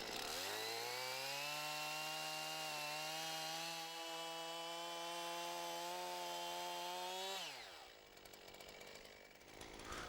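A Jonsered chainsaw runs steadily at high throttle while cutting through a tree, a loud sustained whine that holds for about seven seconds, then drops sharply as the throttle is released and the engine falls to a rough idle.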